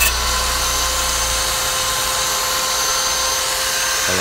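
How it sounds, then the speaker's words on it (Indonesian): An angle grinder cuts into the steel center stand of a motorbike, a loud, steady high-pitched whine that holds throughout before cutting off abruptly at the end. "Oh ternyata nggak bisa ya, jadi kita harus gerinda nih."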